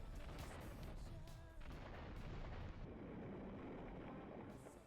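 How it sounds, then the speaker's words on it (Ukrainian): Continuous rumbling explosions and blasts from a GTA 3 cutscene, loud and dense throughout with booming low-end bursts overlapping one another and no speech. "За мить Ейтбол вже епічно біжить з вибухами за спиною"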